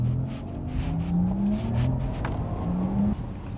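A Porsche Taycan GTS Sport Turismo electric car accelerates, its motor whine rising in pitch in repeated sweeps over a gritty rumble.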